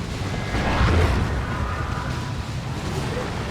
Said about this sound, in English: There's a big shot from the tank.